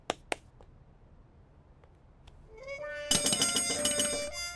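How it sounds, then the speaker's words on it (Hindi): A small bell is rung, bright sustained metallic ringing that starts softly and then swells into several rapid overlapping rings, preceded by a few sharp clicks and taps. "घंटी बजा।"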